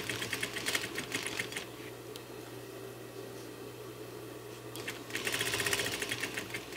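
A sewing machine stitches fabric in two fast rattling bursts, one at the start and one near the end, with a quieter steady hum between them. It is close and heard alone.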